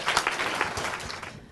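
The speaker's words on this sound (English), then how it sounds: "I think we're getting a clap" Brief audience applause after a talk on food research and policy, a short burst of scattered clapping that thins out within a second or two.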